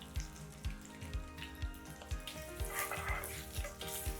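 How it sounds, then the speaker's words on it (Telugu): Mustard seeds, cumin, curry leaves and chillies tempering in a little oil for cucumber chutney, a faint sizzle and crackle with regular soft knocks of stirring, quite quiet. "ఇప్పుడు తాలింపు చేసుకుందాం"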